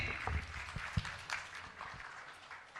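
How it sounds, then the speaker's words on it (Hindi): An audience at a religious gathering claps to greet a guest. The applause is moderate and somewhat distant, with scattered claps standing out, and it thins toward the end of the short burst. "तालियों से अभिवादन कीजिए।"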